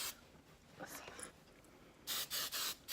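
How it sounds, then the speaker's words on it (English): Hairspray is sprayed onto the bottom section of styled beach-wave hair in a few short, close hissing bursts, three quick ones at the end, with quiet speech in between. "So then what I do is I just spray this whole bottom section."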